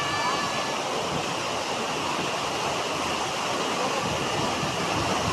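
Tham Phra waterfall pours steadily into a wide natural pool, a dense, even rushing roar of falling water that holds constant throughout with no pauses.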